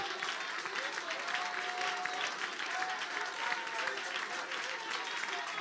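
A church congregation claps hands during a prayer service, a dense steady wash of clapping with voices faintly audible underneath.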